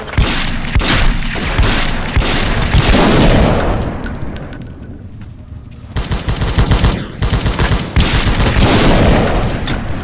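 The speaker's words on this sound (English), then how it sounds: "Watch out, frag grenade!" Rapid machine-gun fire and a grenade blast in a World War first-person shooter game, dense and loud throughout with sustained bursts, a brief lull around the middle, then heavy firing resuming.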